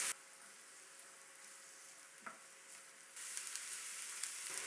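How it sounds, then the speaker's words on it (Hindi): Chopped onion frying in two tablespoons of oil in a pan, a soft, steady sizzle that is faint at first and grows brighter and louder after a few seconds, with occasional light clicks. "अब पैन में डालेंगे 2 टेबलस्पून ऑयल और एक मीडियम चॉप प्याज। प्याज को हल्का सा फ्राई करेंगे।"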